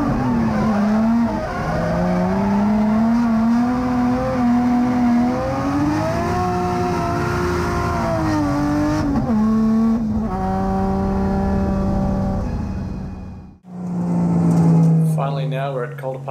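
Race car with a Link ECU drifting on a track, its engine revving hard and steadily under load, pitch rising and dipping through slides, with a brief drop near the end before it roars again.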